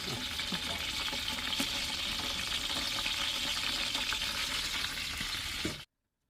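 A wooden paddle stirs biryani masala of cumin, green chillies and curry leaves in sunflower oil in a large pot, with a dense continuous sizzle and occasional scrapes that cut off abruptly near the end.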